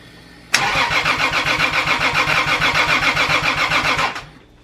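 A Toyota Supra running Speeduino engine management cranks and fires up close by, settling into a loud, steady rhythmic idle for several seconds before the engine is shut off.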